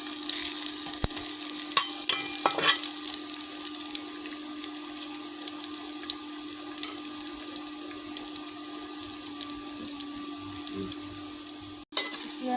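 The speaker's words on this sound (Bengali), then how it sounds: "পেঁয়াজ লাল লাল করে ভেজে নিতে হবে।" Sliced onions fry in a home kitchen pan for a jackfruit curry, a soft, continuous sizzle with occasional clinks and stirring scrapes, fairly quiet with a low steady hum beneath.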